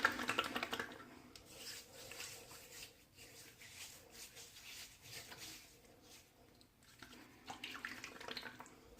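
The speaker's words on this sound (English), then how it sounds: "so I'm going to go ahead and rinse the head." Razor head from a Wilkinson Sword Butterfly razor rinsed under a running tap, a faint, close splashing and spattering of water that varies in intensity throughout, with no talking.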